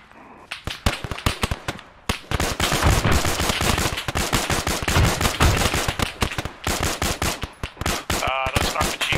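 Loud, rapid gunfire in the military game Arma 3, with dense automatic bursts and single cracks overlapping almost nonstop for several seconds as if from a nearby firefight.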